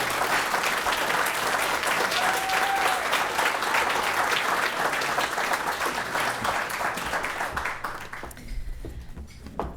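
Audience applause welcoming a speaker at an event, steady dense clapping from a crowd that carries for about eight seconds before thinning out.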